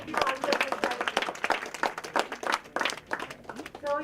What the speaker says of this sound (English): Give yourself a round of applause if you answered this